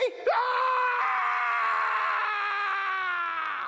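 A puppet character screams in pain in a comedy skit, one sustained, loud, wavering shriek that starts with a short cry and then holds for several seconds.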